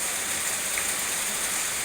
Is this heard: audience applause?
no